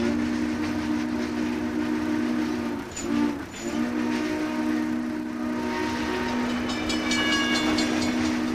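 Ride aboard the 4449 Daylight steam locomotive train on the rails: a loud steady rumble with a droning tone, a brief dip midway, and rhythmic clatter of wheels continuing throughout, with no talk.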